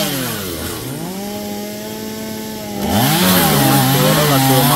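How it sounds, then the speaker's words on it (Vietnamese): A chainsaw cuts into a golden wattle tree standing close to a house and power lines. The engine drones steadily, then rises in pitch and grows louder as the blade bites deeper into the wood. "Cưa đó là cưa mở miệng các bạn"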